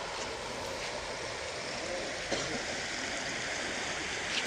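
Floodwater from a swollen river rushes over a road near a culvert, a loud, steady broadband roar that continues unbroken throughout.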